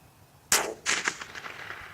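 .22 LR rifle fires a single sharp, close crack of a high-velocity lead bullet, followed by a short, decaying echo.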